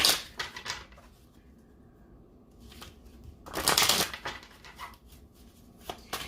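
Oracle cards being shuffled by hand, with soft riffling bursts and a louder flurry midway, close and otherwise quiet.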